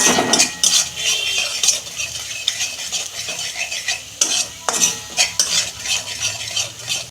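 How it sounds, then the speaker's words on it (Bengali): Spicy masala with Kashmiri chilli powder is stir-fried in a pan for a catla fish curry: loud, continuous scraping and clattering strokes with a light sizzle underneath, close and busy throughout. "কাশ্মীরি লঙ্কা গুঁড়ো দিচ্ছি অল্প আমি ভালো করে দু মিনিট কষা"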